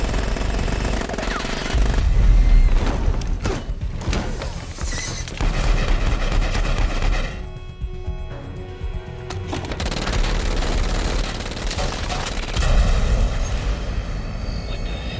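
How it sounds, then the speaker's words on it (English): Rapid bursts of automatic gunfire fill a passenger plane's cabin during an Army of Two action cutscene, dense rattling volleys under a constant engine roar, pausing briefly midway before resuming. "I'm seeing what looks like gunfire in the passenger cabin."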